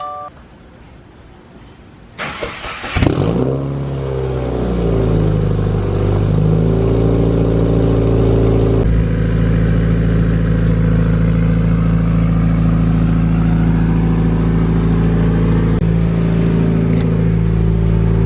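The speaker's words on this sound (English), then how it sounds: "It's gonna be loud. Cold start?" A 2015-or-later Subaru WRX/STI cold-starts after a short crank, the engine flaring to a loud high idle with a deep rumbling boxer burble, then settling into a steady, slowly easing fast idle heard close up from inside the car.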